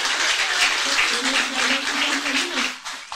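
A church congregation at an Adventist worship service claps together, a fairly loud, dense burst of applause with a steady tone running beneath it, tapering off at the very end.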